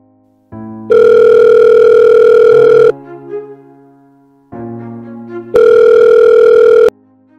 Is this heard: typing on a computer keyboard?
no